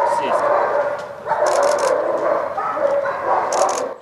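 A police detection dog, a scent dog trained to find drugs and explosives, gives short yips and barks up close, mixed with whimpering and some background voices.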